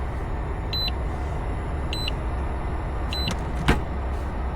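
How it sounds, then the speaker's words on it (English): A Tesla car refrigerator door-open alarm beeps three times at an even pace, each beep a short, high double tone over a steady engine-like hum. "It was beeping because I had the refrigerator open."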